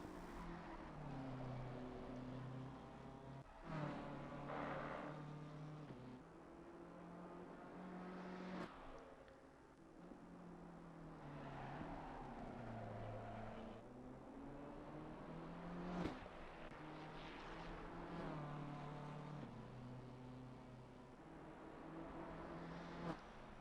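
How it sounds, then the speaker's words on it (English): A BMW race car on a flying lap at Bathurst holds a loud, continuous engine note that rises and falls through gear changes and corners, with a few sharp shifts, and no talking over it. "BMW will begin his flying lap here at Bathurst"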